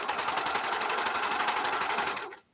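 Fast, steady mechanical whirring of a serger sewing machine stitching baby leggings fabric, running continuously at close range before stopping abruptly near the end.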